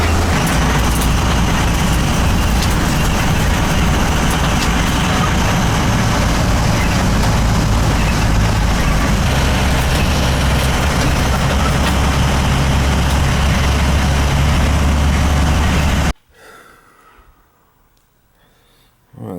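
A vehicle drives along the road with a steady, loud low engine rumble and road noise that carries on evenly, then cuts off abruptly near the end, leaving near silence.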